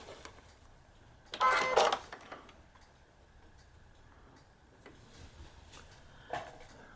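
A sewing machine stitches a paper-pieced quilt block in one short whirring burst of a few stitches. A few faint ticks follow in an otherwise quiet room.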